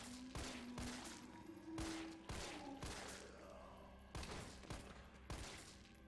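Loud gunfire in the video game Resident Evil 3: about eight heavy shots fired in irregular bursts, each ringing out over a low droning game ambience, with no talking.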